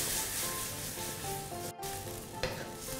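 Beef tenderloin stir-fries in coconut milk with green curry paste in a hot pan, giving a steady, close sizzle with stirring scrapes throughout and no talking.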